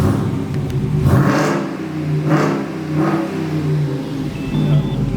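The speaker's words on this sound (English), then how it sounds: "So I'm going to start it real quick." A 2021 Ram 3500 pickup truck engine revs up in several rising surges, throaty exhaust rumbling steadily underneath, close and loud.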